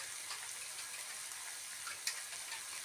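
Water poured from a jar onto peas in a cooking pot, a soft steady faint pour with a small splash near the end, heard alone without talk.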